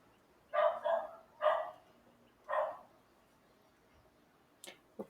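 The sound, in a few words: dogs barking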